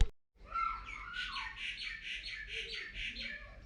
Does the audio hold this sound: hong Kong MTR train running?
no